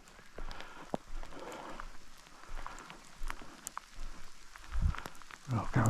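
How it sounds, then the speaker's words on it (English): Rain falling outdoors during a solo fallow deer hunt, with a steady wet patter and a few nearby rustles and soft thumps. "Oh, the rain's set in a bit"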